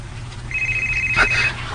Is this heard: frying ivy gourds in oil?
no